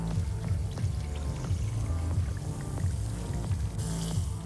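Liquid poured in Dead Island 2, a continuous sloshing, gurgling flow with a rhythmic low pulse, steady and fairly close throughout.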